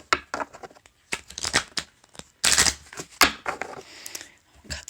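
A deck of oracle cards riffles and snaps in quick bursts, with crisp papery flutters and taps coming in uneven clusters, close by.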